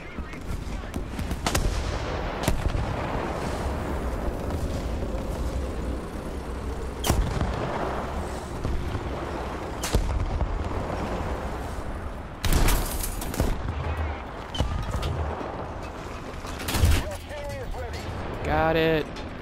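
Artillery and gunfire during a War Thunder video game tank battle, scattered sharp booms and cracks over a steady rumbling battle din, with a few louder blasts near the end and voices talking.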